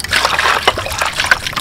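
Water sloshes and trickles inside an oil can being washed, close and bright, with short splashy swirls.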